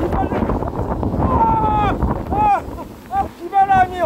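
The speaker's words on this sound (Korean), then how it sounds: "비바람이 엄청나게 불고 있습니다" Typhoon Maysak's wind and rain roar and buffet a microphone outside Jeju Airport, a loud, gusty rumble that runs throughout while someone talks over it.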